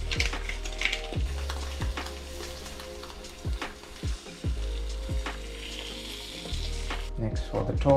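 An egg frying in a pan crackles and sizzles steadily up close, broken by repeated low thumps and scraping knocks as the white is spread underneath, with no talk.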